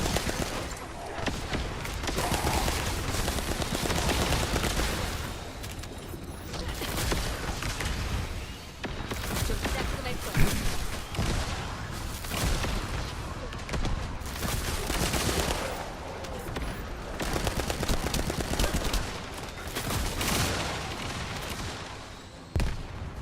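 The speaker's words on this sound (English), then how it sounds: "Who's shooting?" Sustained gunfire rattles through a busy firefight in The First Descendant, dense overlapping shots and blasts continuing loudly for the whole stretch with no pauses or talking.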